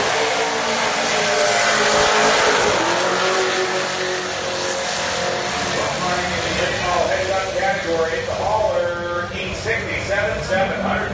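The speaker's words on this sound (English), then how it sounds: "Just made a pass, went 867 at 152, which is our best pass so far in the C7." A supercharged C7 Corvette roars hard down a drag strip, its loud engine sustained and rising through gears over about eleven seconds, with crowd or announcer voices faintly underneath.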